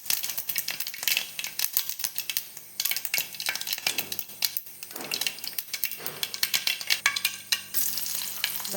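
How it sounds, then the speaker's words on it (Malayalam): Mustard seeds spluttering and popping in hot oil with dried red chillies, a dense crackle of sharp irregular pops and stirring clicks, close and lively throughout. "കടുക് പൊട്ടി വരുമ്പോൾ നമുക്ക് വറ്റൽ മുളക് ഇട്ട് കൊടുക്കാം"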